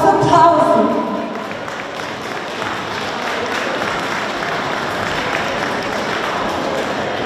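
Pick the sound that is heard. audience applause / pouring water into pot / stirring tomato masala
audience applause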